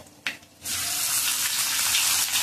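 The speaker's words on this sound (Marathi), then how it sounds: "छान परतून घेऊया" Chopped onion and a pinch of asafoetida sautéing in hot oil for a Marathi kairi moong dal amti, a steady close sizzle that jumps up after a brief quieter start and holds even to the end.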